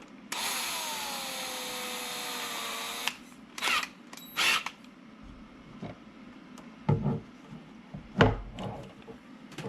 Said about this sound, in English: what I need to do is thread into this on both sides using my drill